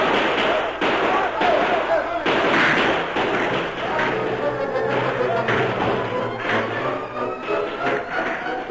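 Rifle gunfire sound effects in a radio drama about a Lone Ranger fight with outlaws: a dense, loud volley of repeated shots and thuds, overlapping and continuous, with a narrator and voices beneath.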